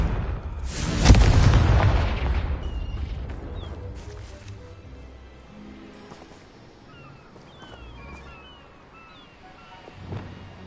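A Confringo fire spell explodes in Hogwarts Legacy, a loud booming blast that rolls into a long rumbling decay, with scattered game effects and a smaller thud near the end.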